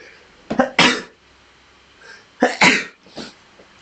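A man sneezes close and loud in a quiet room: a pair of sharp bursts, then after a short pause another hard sneeze followed by a smaller third one.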